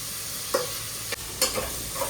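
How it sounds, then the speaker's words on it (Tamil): Sliced onions, green chillies and curry leaves with salt sauté in hot oil for mutton kuzhambu, giving a steady close sizzle broken by a few quick spatula scrapes. "உப்பு சேர்த்துட்டு நம்ம வந்து நல்லா கோல்டன் ப்ரௌன் வர வரைக்கும் வதக்கிக்கலாம்"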